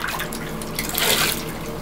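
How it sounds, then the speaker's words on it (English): Water splashing and dripping as a face is rinsed mid-shave, a close, bright wash of splashes swelling toward the middle, with no talking. "just rinse your face off one time with water to reactivate the soap"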